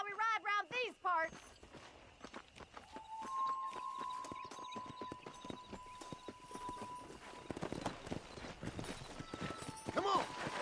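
Horse hooves gallop at a steady, rapid clip-clop in the Red Dead Redemption game, loud and close, with a voice talking briefly at the start and a sustained musical tone running beneath.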